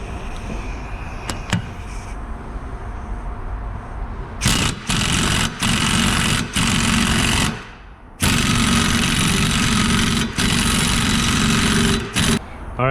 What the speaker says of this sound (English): So we're going to tighten up our lug nut.